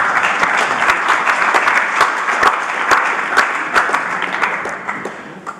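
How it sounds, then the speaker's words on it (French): Audience at a Swiss federal election debate applauds the panel: dense, steady clapping from a nearby crowd with sharp individual claps standing out, lasting throughout and tapering slightly at the end. "On peut les applaudir."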